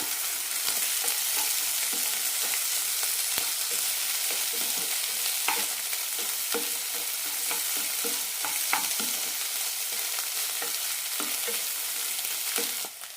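Jackfruit seeds and egg fry in a pan with a steady, dense sizzle, broken by frequent scraping knocks of a spatula as the stir fry is tossed and mixed, and no talking.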